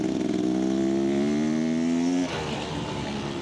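Dirt bike engines roar together at the start of an enduro race at Tumut, a loud steady multi-engine drone with rising pitch that drops off sharply near the end, dusty outdoor track.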